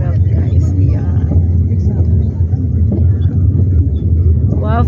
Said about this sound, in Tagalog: Ayan yung traffic sa metro sa Commonwealth, guys.